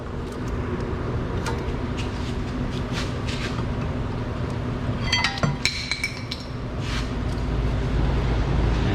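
A rear brake caliper on a Subaru Outback is wiggled free, giving scattered light metallic clinks and taps over a steady background hum, with a brief cluster of sharper rattles midway.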